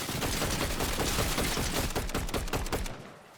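A minigun in Fortnite Zero Build fires a dense, unbroken stream of rapid shots, loud and close, then cuts off abruptly into near quiet.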